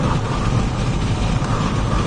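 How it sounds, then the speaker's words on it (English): Strong wind roaring steadily across an open South Dakota landscape during tornado chasing, a loud constant broadband rush buffeting the microphone with no pauses. "Ooh, wind."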